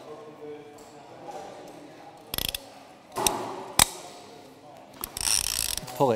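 A rope clutch and pulley hauling system gives off several sharp ratcheting clicks and metallic clanks in irregular bursts, close by, over quiet background rustle.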